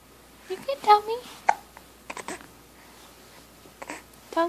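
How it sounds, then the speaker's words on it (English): A young child hiccups several times in short, sharp bursts, spaced irregularly across a quiet indoor room, with soft vocal sounds from the child between them. "Tell those hiccups to go away."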